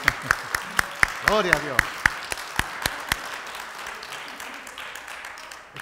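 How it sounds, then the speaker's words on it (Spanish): Sharp, evenly spaced claps ring out in a steady rhythm at a church service while a voice speaks over them in Spanish, then the clapping fades near the end. "déselo a él ese aplauso, más fuerte"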